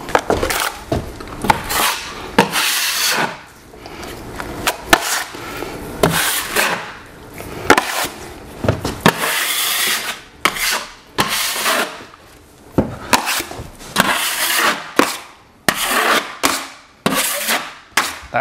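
A trowel or knife spreads sheetrock mud on a stairway wall in a house remodel, with close, uneven scraping strokes and knocks broken by brief pauses throughout.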